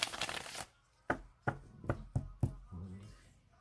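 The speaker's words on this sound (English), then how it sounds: "I'm going to shuffle it 3 more times" A deck of tarot cards is shuffled by hand, heard as a burst of riffling followed by about five sharp, close taps and shuffles, then a short soft rustle.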